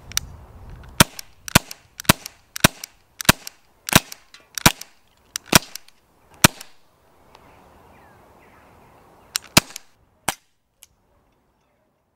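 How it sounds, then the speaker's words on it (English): A CP99 CO2 air pistol fires at reactive tin can targets outdoors, making sharp, loud cracks in an uneven volley of about a dozen shots with brief pauses, then a few more shots after a short quiet gap. "To get the most out of this gun, you really want to be shooting reactive targets, like tin cans and bottle tops."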